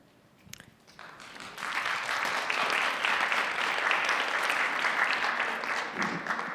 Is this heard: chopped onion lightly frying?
no